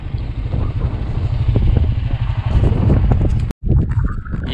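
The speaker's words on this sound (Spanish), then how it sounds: "ya tenemos varios intentos de pasar con la moto y está muy difícil porque hacen muchos arroyos y está muy lodoso" A motorcycle engine strains and revs close by while struggling through deep mud and water-filled gullies on a rural track, with rumbling low tones, clatter and a brief cut-out.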